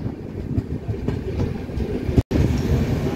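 Intercity superfast express train pulling into Nalgonda railway station, a steady loud rumble of wheels and carriages with faint clicking, broken by one brief sharp dropout, then continuing.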